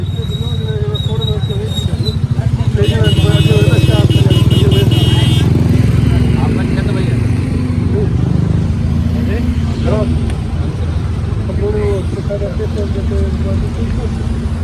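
A loud auto rickshaw engine rattles and buzzes close by, swelling and then easing as it passes on a road between Karachi and Larkana, with people talking over the noise.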